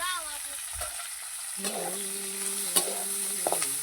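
Roasted dried Bombay duck fish fries with turmeric in a pan, a low hissing sizzle with a few stirring scrapes and clinks, close but fairly quiet, while a voice talks over it.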